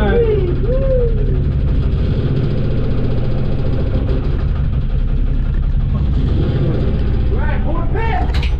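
A lifeboat engine runs during a drill, a loud, steady, close mechanical drone with a knocking pulse throughout, while people shout and talk over it.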